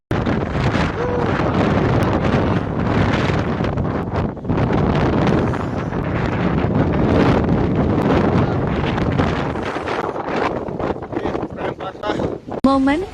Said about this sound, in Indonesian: Momen ketika porter diterjang badai ketika hendak mendirikan tenda.